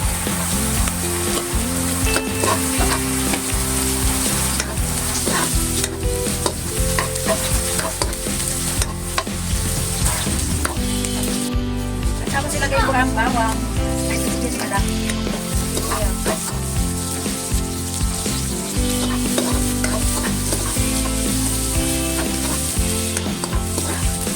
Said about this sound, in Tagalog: Sunod, ilalagay ko ang bawang.